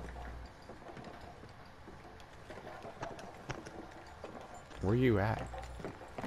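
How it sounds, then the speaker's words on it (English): Faint, rapid clip-clopping horse hoofbeats from the video game Battlefield 1 patter in the background while a person speaks briefly over them. "It literally sounds like a horse up there."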